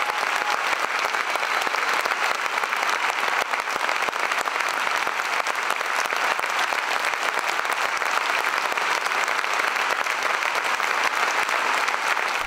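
A concert audience applauds steadily, a dense, even wash of clapping that holds at the same loudness from start to finish, with no voices over it.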